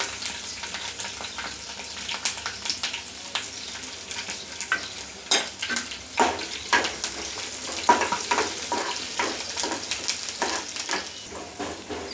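Garlic and curry leaves sizzle in hot oil for a Maharashtrian zhunka, a steady crackling fry broken by sharper spits and pops, close and fairly loud, with no voices.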